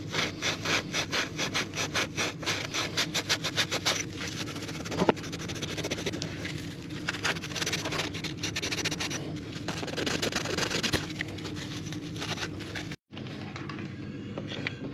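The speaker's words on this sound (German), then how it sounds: "dann werde ich mal mit so einem Schleifvlies hier die Flächen bearbeiten" Steady, rhythmic scrubbing of an abrasive fleece pad across hard engine intake surfaces of an Opel Omega, close up, with brief pauses and no talking.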